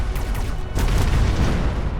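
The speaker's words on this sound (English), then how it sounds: "Lots of explosions happening there." A dense barrage of booming explosions in the video game Mechabellum, loud and continuous, with rumbling low end and a sharper burst partway through.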